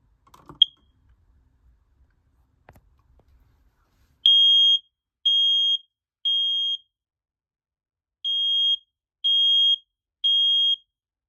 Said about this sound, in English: Let's test the other detectors to make sure they're working.